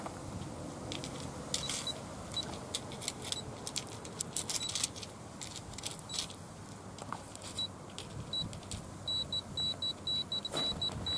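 An inexpensive GP pin pointer metal detector gives off thin, high electronic beeps that become a steady run of repeated tones near the end, faint against a soft background of outdoor rustling and handling noise.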